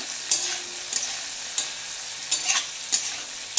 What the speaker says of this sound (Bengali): সামান্য মতন একটু হলুদ, সামান্য পরিমাণে লবণ দিয়ে ভালোভাবে নেড়ে চেড়ে নেবো